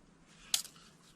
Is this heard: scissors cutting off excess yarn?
yes